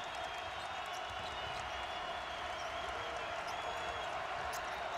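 A packed arena crowd at an Iowa versus Indiana Big Ten basketball game roars in a steady, dense wash of cheering, with occasional court sounds and a voice faintly underneath.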